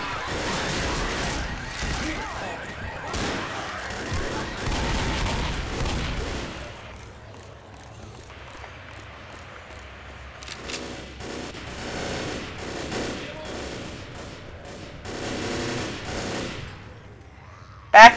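Left 4 Dead gunfire comes in dense bursts of rapid shots in the first stretch, then quieter sporadic volleys with gaps, ending in a sharp loud bang.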